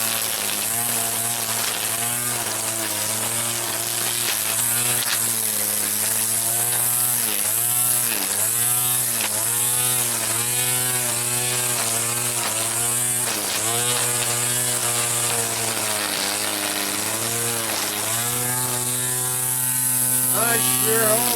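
A battery-powered weed eater runs steadily and loudly for the whole stretch, its motor whine holding a constant pitch with slight rhythmic wavering and no voices over it.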